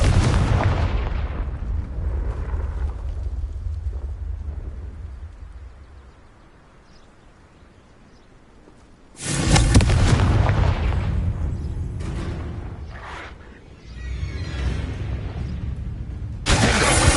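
Spell explosions from the Confringo fire spell in the Hogwarts Legacy video game: loud booming blasts with crackling bursts, one long rumble at the start, then sharp loud bursts after a quiet gap, recurring near the end.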